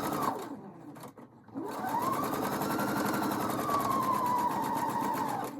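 A sewing machine stitches a quarter-inch seam on a nine-patch quilt block, running in a steady high whirr for several seconds after a short start and a brief pause, close and clear with no talking.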